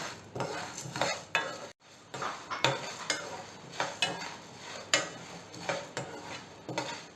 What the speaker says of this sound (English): I've been roasting this for about 2 minutes on a very low flame.